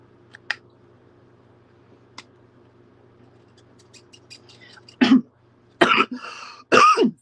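Several sharp, harsh coughs and throat clearing come in quick bursts toward the end, close by, after a quiet stretch with faint clicks.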